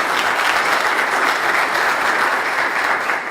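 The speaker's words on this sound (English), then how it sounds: "I'm glad we have diplomats in the front, because they know when to applaud" Sustained audience applause at a business and investment summit, a dense steady wash of many hands clapping at full loudness throughout, with no voices standing out.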